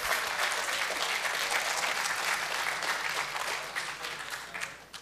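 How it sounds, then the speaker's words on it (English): A conference audience at a Q&A session claps in a continuous, full wash of applause that holds steady, then tapers and thins out toward the end. "thank you for all of that love and applause"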